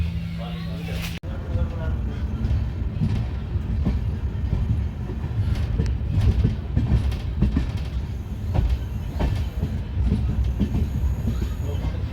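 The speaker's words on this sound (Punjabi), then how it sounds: "ਆਪਣੀ ਟ੍ਰੇਨ ਪਹੁੰਚ ਗਈ" A train rumbling and clattering as it pulls into Sachkhand Hazur Sahib railway station, with wheel squeals and a steady low roar while people talk nearby.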